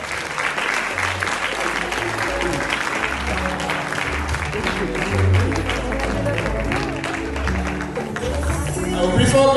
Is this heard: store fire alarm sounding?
no